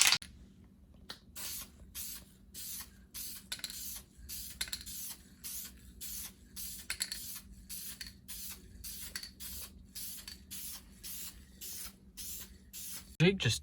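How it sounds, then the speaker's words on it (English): Repeated short hissing bursts of an aerosol can spraying primer during car body repair, pulsing in quick rhythmic strokes with brief gaps, fairly faint and close. "So we'll come back once he's spraying."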